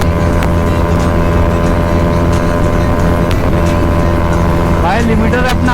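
Pulsar NS200 motorcycle with an Akrapovic exhaust held at the rev limiter on a highway, producing a loud, steady engine drone with wind rush, and a voice speaking over it.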